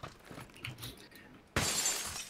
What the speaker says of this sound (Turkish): Camı ben kırdım.